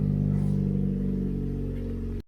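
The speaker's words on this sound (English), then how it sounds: "Sounds pretty good though, but it is a lot quieter having that muffler on there" Turbocharged Toyota Corolla with a 3-inch custom exhaust and muffler, revving close by in a strong, steady low drone that holds for about two seconds and then cuts off abruptly.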